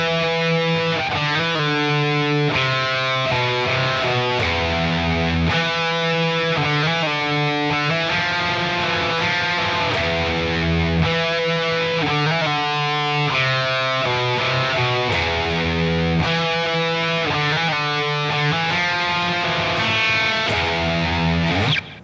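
A distorted electric guitar plays a bridge riff with an octave pitch-shift effect, ringing open strings and a steady repeating pattern, loud and continuous with no talking.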